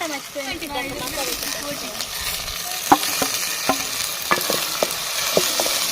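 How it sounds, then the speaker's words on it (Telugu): Chicken curry with tomatoes stirred in a clay pot, a steady sizzle running throughout with sharp spoon scrapes and knocks every second or so, and a voice briefly at the start. "ఓకేనండి టమాటా వేసుకుని తిప్పేసుకున్నాము"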